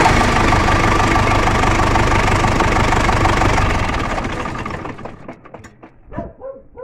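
D245 diesel engine running loud and steady up close, then shutting down, its roar fading into a few uneven knocks and clunks as the crankshaft comes to rest.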